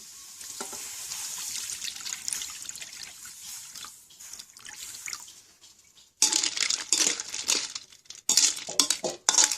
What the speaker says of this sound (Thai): เติมน้ำยานาง